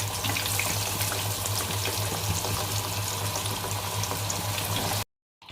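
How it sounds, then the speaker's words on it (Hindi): Pieces of Korean fried chicken sizzle and bubble steadily in hot oil, a dense, continuous frying hiss heard up close with no talking, cutting off abruptly near the end. "और इसी तरह जो दूसरे पीस रह गए मैं उनको फ्राई कर लूँगी"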